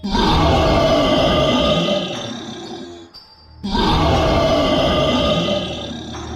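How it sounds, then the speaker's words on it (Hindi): Two long, deep monster roars from a jungle monster in an Evil Nun horror cartoon, loud and growling, separated by a brief pause, each sustained for about three seconds. "लेकिन ये आवाज़ तो मॉन्स्टर की होती है"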